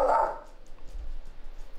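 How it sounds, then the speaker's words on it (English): A single short dog bark sounds close and clear at the start, followed by faint low rumbling background noise. "What are you barking at?"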